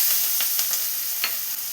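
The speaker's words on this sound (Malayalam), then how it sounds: "ഇനി നമുക്ക് ചിക്കൻ ഫ്രൈ ചെയ്ത അതേ ഓയിലിൽ തന്നെ ഉള്ളിയെല്ലാം ഒന്ന് വഴറ്റിയെടുക്കണം." Chopped red onions and small onions sautéing in hot oil left from frying chicken, a steady close sizzle with a few soft stirring scrapes and no talk.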